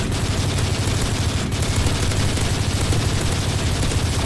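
Dense, continuous gunfire in Call of Duty Modern Warfare 3 keeps up a loud, unbroken fusillade of rapid shots for several seconds with no pause.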